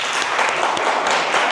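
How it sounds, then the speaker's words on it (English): A conference audience claps together in a dense, steady burst of applause from many hands. The sound is fairly loud and fills the room, and no one speaks over it. "clap your hands if this ever happened to you for the ones who are freelancers already"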